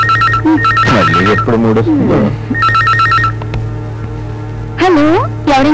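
A landline phone in a bedroom rings in repeated short electronic trills, loud and close, with dialogue in between and after.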